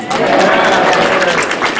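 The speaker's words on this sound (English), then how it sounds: "Another round of applause." Audience at a Chanukah reception breaks into brief, dense applause, a close burst of many hands clapping for under two seconds.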